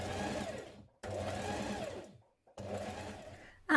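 A sewing machine basting along the raw edge of shirt fabric, three close bursts of rapid stitching separated by short pauses, with a brief click at the end.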